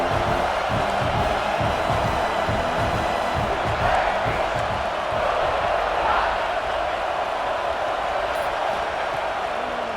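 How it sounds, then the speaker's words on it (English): Stadium crowd in a college football video game, Missouri at South Carolina rivalry game, roaring and cheering as a steady loud wash throughout, with a commentator talking over it. "This crowd bringing the energy and noise early."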